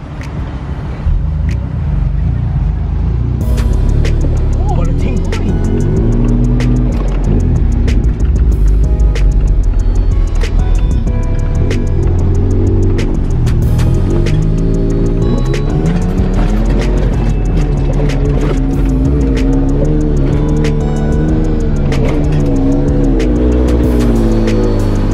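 Two-wheel-drive five-speed car driving through sand, its engine roaring loudly and continuously with rising and falling revs as it shifts through gears, close and alone.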